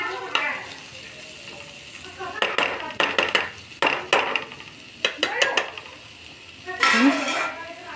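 Radish pod dry vegetable stirred in a pan with a spatula, giving repeated clattering scrapes and knocks in an irregular rhythm over a light sizzle, fairly close and clear.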